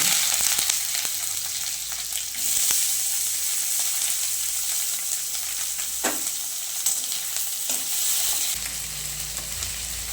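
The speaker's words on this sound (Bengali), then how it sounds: "এবার আমরা পেঁয়াজ সবগুলো একটু করে ফ্রাই করে নেব ফার্স্ট কুচনো পেঁয়াজ দিচ্ছি" Chopped onions fry in hot mustard oil with a loud, continuous sizzle, broken by a few scraping stirs and knocks from a utensil in the pan.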